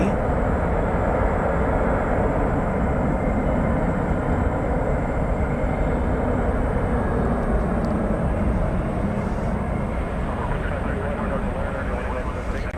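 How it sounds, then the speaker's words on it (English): An American Airlines Airbus A321 arriving from San Diego at DFW Airport at night gives off a loud, steady jet roar that fills the whole stretch and eases off only slightly toward the end. "It's an Airbus A321 arriving from San Diego, California."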